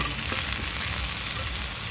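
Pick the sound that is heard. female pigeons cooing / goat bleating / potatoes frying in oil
potatoes frying in oil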